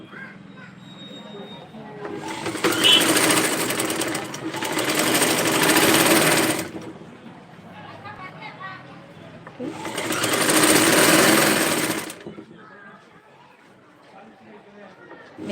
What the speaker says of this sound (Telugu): ఇక్కడి నుంచి అయితే స్టిచ్చింగ్ చేయడం మొదలు పెడుతున్నా.